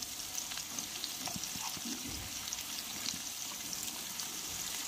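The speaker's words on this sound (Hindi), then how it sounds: "अब हम इसमें डालेंगे आलू, जो हमने काट के रखे हुए थे" Cut potatoes hit hot oil and fried masala in a pan, giving a steady, faint sizzle with light stirring and scraping clicks, with no talking.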